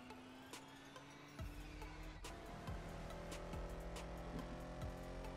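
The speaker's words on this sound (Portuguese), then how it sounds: "O barulho do carro tá diferente." A steady, low car engine in GTA San Andreas drones throughout with revving shifts in pitch, accompanied by intermittent clicks and thumps, mixed at moderate volume.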